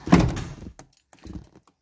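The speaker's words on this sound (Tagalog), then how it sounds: "Isarado natin yung pintuan natin." A Honda Civic door is shut with a solid thunk near the start, followed by faint rattles and small clicks.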